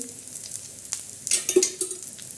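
Green chillies frying in a little hot oil, a soft steady sizzle with faint stirring and a few louder crackles and spatters toward the end, close by with no talk.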